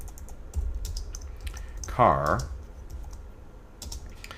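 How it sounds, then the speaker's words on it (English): Computer keyboard typing during a coding session, scattered close key clicks spread through the clip, with a brief spoken word partway through. "Now notice when I hit the spacebar on my keyboard"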